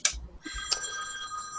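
A phone rings during an online space discussion, a sustained electronic ringtone with a few clicks at the start, heard alone at moderate volume.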